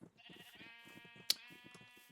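Sheep bleating in the Minecraft world Lunchcraft: a drawn-out, reedy bleat that holds steady, set against a soft rhythmic low pulse and a brief sharp click partway through.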